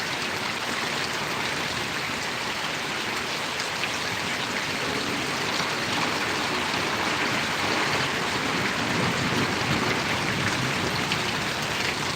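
Steady rain falls on Parvadi village in Gariyadhar taluka, a constant, even hiss of drops on surfaces that stays loud and unbroken throughout with no voices.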